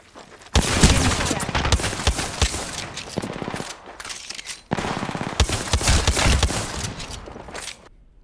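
Rapid automatic gunfire in a video game battle, two long loud bursts of dense shots separated by a brief pause, with a voice talking over the action.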